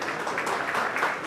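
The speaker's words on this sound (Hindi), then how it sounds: "एक बार जोरदार तालियां हो भाई" An audience at the New Delhi launch ceremony for the 2025 World Para Athletics Championships gives a brief burst of energetic clapping, fairly dense and moderately loud throughout the short span.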